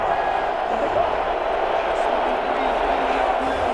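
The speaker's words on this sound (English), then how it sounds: "Some boos coming down right now from this home crowd after that call" A home crowd in the Madden NFL 21 football video game gives a sustained, dense roar of boos, steady and loud throughout with no clear breaks.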